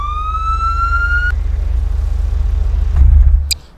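Close, loud siren from GTA 5 police cars in Garry's Mod, cut off after a moment, leaving a steady low engine drone, then a brief burst and a short high electronic chirp before it fades.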